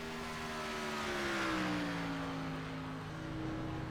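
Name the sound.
NASCAR Gen 6 race car engine at Daytona, iRacing video game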